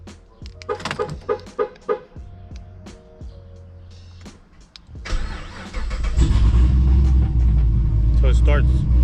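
A Pontiac G8 GT engine cranks and catches, settling into a loud steady rumble after some clicks and faint talk nearby.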